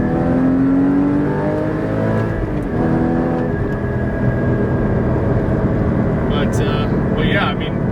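A Porsche GT4 engine revs through a downshift while driving on a backroad, with a loud, steady engine drone and rising and falling pitch. Someone talks over it throughout.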